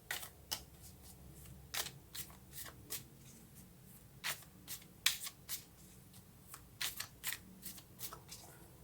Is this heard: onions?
no